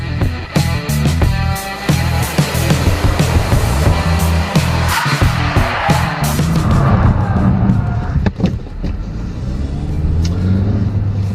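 A 2014 Hyundai Elantra Coupe accelerates hard from 0 to 60 mph on a track, its engine revving loudly through rising pitches with brief dips at gear changes and a steady roar close by.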